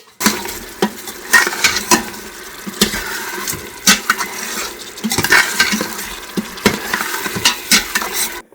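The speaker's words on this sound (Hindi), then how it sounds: "इस स्टेज पर मैं इसको अच्छा करके भून लूँगी ताकि मसाला एक जान हो जाए।" Masala in ghee is stirred and sautéed in a pot on simple sauté mode, with repeated scraping and clinking strokes over a soft sizzle and no talking.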